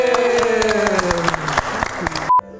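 Brief burst of clapping from a small group during a casual Indonesian podcast chat, heard under music and talk, then cut off abruptly.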